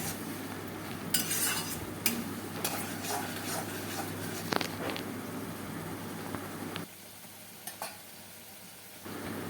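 Prawns and masala being stirred and fried in a pan, a low sizzle under several sharp scrapes and clinks of a utensil against the pan, then a quieter stretch with a couple of light taps.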